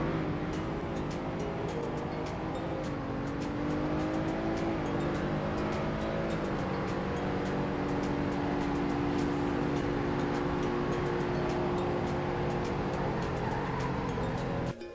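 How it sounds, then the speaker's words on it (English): Police cruisers in the Roblox Greenville video game running a 0 to 100 braking test, with a continuous loud engine drone whose pitch climbs and shifts across the run, and no talk. "Now for a 0 to 100 braking test between these two."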